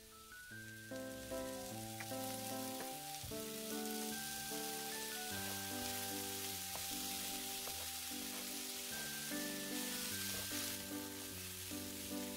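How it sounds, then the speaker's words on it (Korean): Sweet potato and carrot stir-fry over medium heat in a frying pan with olive oil, giving a constant broadband sizzle. Loud melodic background music plays over the sizzle throughout. "이제 준비하신 재료를 프라이팬에 볶아주시는데요. 중간불에서 천천히 볶다가 중간에 올리브유 1-2바퀴 둘러주세요."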